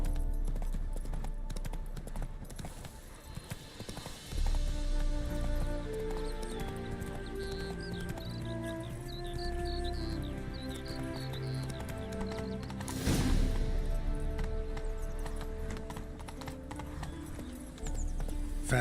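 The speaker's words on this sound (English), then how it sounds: "That's it, Roach." Hooves of a horse galloping in the video game The Witcher 3, a steady fast clip-clop running throughout over a dense game music and ambience bed, with a brief whoosh near the middle.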